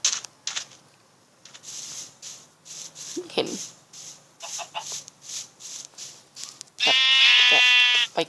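Sheep and chickens in the Minecraft video game, with a run of short bleats and clucks over soft game sounds, ending in one loud, sustained high bleat.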